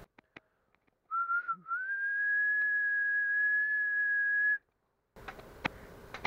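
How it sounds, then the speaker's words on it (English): A person whistles one long, steady note for a few seconds, near and clear, with quiet pauses before and after. "I'll go over here and whistle for it."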